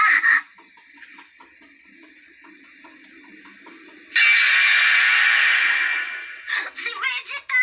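A Conzert amplifier gives off a bright, steady hiss that swells loudly near the middle and runs for a couple of seconds. Quieter stretches before it carry faint murmuring voices.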